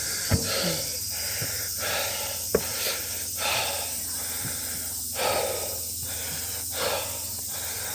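Heavy, labored breathing close by while walking a forest trail, a series of deep inhales and exhales with a few sharp snorting gasps, steady background hiss.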